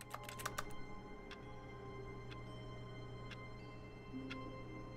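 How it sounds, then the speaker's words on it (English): Keyboard clicking in The Stanley Parable video game, a quick burst of clacks followed by single, evenly spaced faint clicks over a steady low hum. "when we click, it does keyboard clicking noises"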